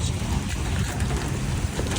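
Rain while driving a BMW F30 Stage 2 car, a steady broadband wash of rain and road noise inside the cabin, continuous and fairly loud with no talk.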